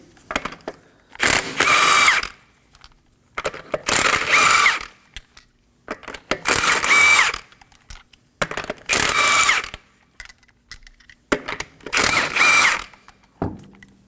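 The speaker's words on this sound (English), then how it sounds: "Using a 21mm socket, we're gonna remove the wheel." A 21mm socket on an impact tool spins off the lug nuts of a 2016-2020 Kia Sorento front wheel. There are five loud, separate bursts of about a second each, split by short silent gaps.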